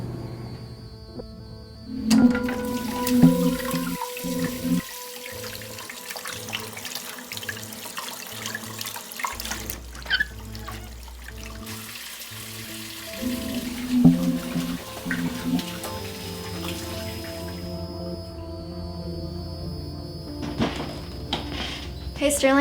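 Hot tap water runs steadily into a sink while someone washes blood off, a continuous splashing stream with clunks and shifting flow, music and voices heard underneath.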